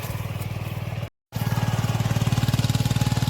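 A farm diesel tractor engine runs close by with a loud, steady chugging pulse, cut by a brief silent gap before resuming even louder, no voices.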